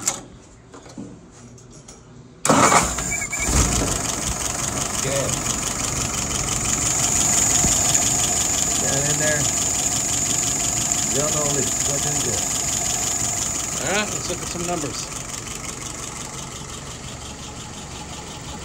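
A car engine fires up abruptly after a quiet moment and settles into a steady, even idle of about 660 RPM, heard close while someone talks over it.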